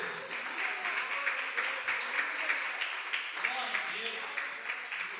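Congregation at a church service clapping together, a dense rhythmic patter of many hands sustained throughout, moderately loud, with voices faintly mixed in.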